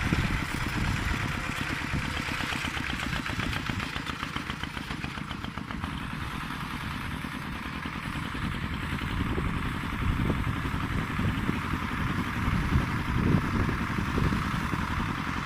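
A small modified walking tractor engine, used for pushing soil to level a rice field, runs continuously at a steady chugging idle, loud and close, with a rattling mechanical texture throughout.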